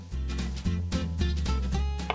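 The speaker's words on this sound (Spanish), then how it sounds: "Y voy a partir picando los champiñones." A knife chopping mushrooms on a cutting board, a series of close, quick knocks in an uneven rhythm over a low steady hum.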